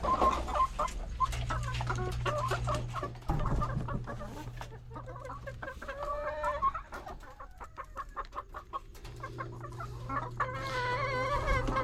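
Chickens in a coop cluck and murmur continuously up close, with overlapping calls from several birds and a steady low hum in the background.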